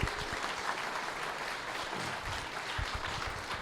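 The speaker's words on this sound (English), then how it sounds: "let's give Dell a round of applause for being here today." Audience at a general meeting of an AI group gives a steady round of applause for a guest, continuous moderate clapping from a room of people.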